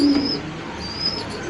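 Pigeon cooing in a loft holding an old male racing pigeon about 15 to 16 years old, a soft low coo near and fairly steady, with faint higher bird chirps above and no talk.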